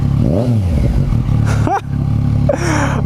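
A 2015 Yamaha FZ-09 motorcycle fitted with an Akrapovic exhaust revs loudly and close by in short bursts, with a clattering, rasping note and a brief dip between pulls.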